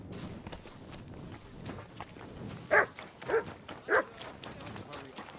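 Three short dog barks ring out at a steady pace over faint footsteps and quiet background noise in the video game Kingdom Come: Deliverance II.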